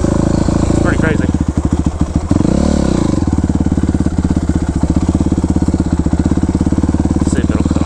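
Yamaha YZ426F four-stroke dirt bike idling close by, a rapid steady thumping putter with a short rev blip early on, then settling back to a slightly low idle.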